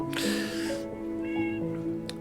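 A cat meows in a drawn-out, close, fairly loud call that wavers in pitch, followed by a shorter second meow with no other voices present.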